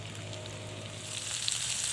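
Steady, crackling sizzle of potatoes frying in a pan, close and continuous with small pops.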